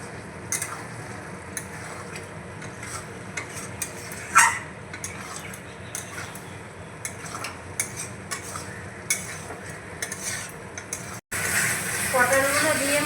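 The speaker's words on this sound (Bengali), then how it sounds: "তো পটলগুলো দিয়ে আমি একটু নাড়িয়ে মিশিয়ে নেব।" Fried pointed gourd being stirred into spices in a pan, with soft scraping and intermittent utensil clicks over a low frying hiss, and a louder sizzle surge near the end.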